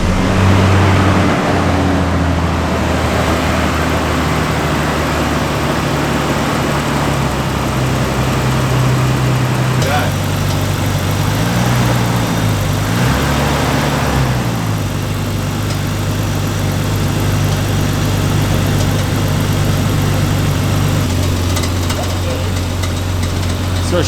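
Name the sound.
JDM car engine cold start, idling with clicking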